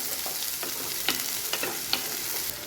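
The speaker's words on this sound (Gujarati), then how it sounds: "બધું સરસ અહીંયા તેલની અંદર સાંતળી દઈશું।" Finely chopped onion sizzles steadily in hot oil, a continuous frying hiss with a few light stirring scrapes and taps, close and moderate, no voices.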